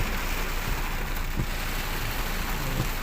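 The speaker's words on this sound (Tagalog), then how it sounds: "Lumakas na naman ang ulan." Steady heavy rain pours down in a dense, continuous hiss in Makati, Philippines, with a few faint low thumps underneath and no voices.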